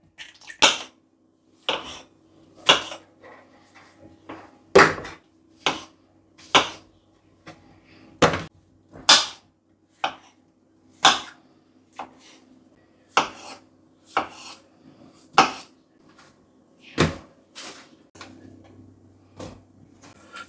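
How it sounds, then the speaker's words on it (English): Chestnut mushrooms are scrubbed and sliced on a board in a kitchen, giving a steady series of crisp, close knife taps about once a second, separated by soft rubbing and quiet pauses. "So we'll give them a good old scrub and slice them."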